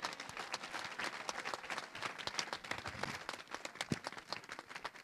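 A church congregation in Maurepas applauds with dense, continuous clapping that stays fairly quiet and even, with many hands clapping at once and no clear break.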